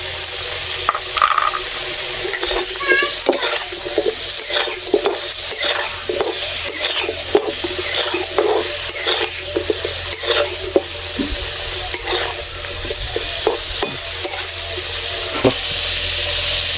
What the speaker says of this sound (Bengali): আলু ভাজার জন্য প্রথমে আমি কড়াইতে কিছুটা সর্ষের তেল দিয়ে দিলাম।